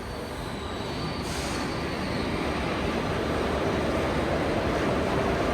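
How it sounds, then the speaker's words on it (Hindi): An Indian Railways train hauled by a blue WG7 locomotive of the Jhansi shed rolls in, producing a loud, steady rumble of wheels on track that builds slightly and carries on without a break. "सामने देखो WG7 के साथ कोई तो गाड़ी पहुंच रही है"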